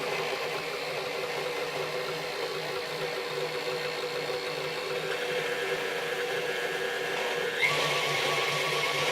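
An electric mixer running on low blends cocoa powder into a mixture with a steady, continuous motor whir, its pitch shifting slightly near the end.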